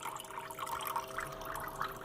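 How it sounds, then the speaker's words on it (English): Water slowing to a trickle and drip inside a GES 5099 5400 machine during a sanitizer cleaning cycle, a soft continuous liquid patter with a steady faint pump hum beneath. "As the water slows down, we could turn our pumps off."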